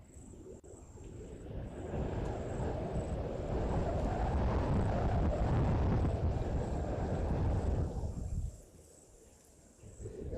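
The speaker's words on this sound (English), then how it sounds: "As you can hear and see, it is very windy." Strong wind gusting outdoors, a loud rumbling buffeting that swells and holds for several seconds before easing, with a faint steady high tone behind it.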